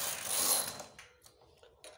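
A knitting machine carriage sliding across the needle bed to knit a stitch on a two-colour pattern: a loud mechanical whoosh and rattle, then a series of softer clicks and clacks as it settles.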